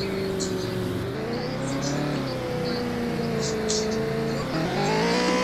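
A vehicle engine in a racing video game revs steadily at a high, sustained pitch that rises and falls slightly, with a player's voice faintly audible over it.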